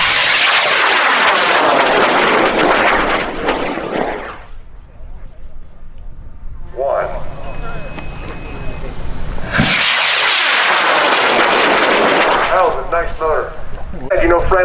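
A level 3 high power rocket launches at a rocketry event. Two loud, close, tearing roars rise and fade, separated by a quieter stretch with faint voices in the background.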